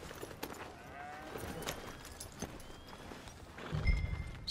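A horse walks slowly in the Red Dead Redemption 2 video game, its hooves giving soft, irregular clip-clops over quiet ambient sound, with a louder thump near the end.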